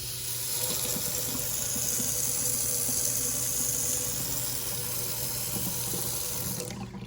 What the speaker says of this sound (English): We'll turn on the water and check for water pressure.